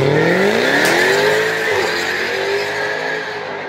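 Hot Wheels die-cast toy cars, including a '76 Corvette and a '68 Shelby, race down a track with a loud continuous engine-like roar and rising whine that slowly fades, with no talk.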